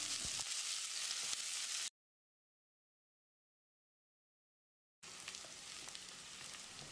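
Onions sizzling and frying in a pan, sliced lengthwise with cumin for moong dal khichdi, a steady faint hiss that cuts out to silence midway and then resumes.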